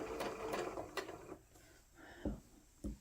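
A sewing machine stitches quilt fabric along a drawn line, giving a quick run of rapid mechanical clicks and then a few separate thumps as it slows and stops, faint and close, with no talk.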